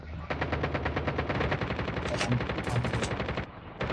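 Sustained rapid machine-gun fire in Call of Duty Mobile, loud, close and continuous for several seconds with a dense rhythmic crackle of shots before cutting out briefly near the end.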